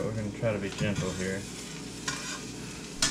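An egg fries in fish roe juice in a cast iron skillet, giving a steady close sizzle with scraping from a metal spatula while a person talks over it.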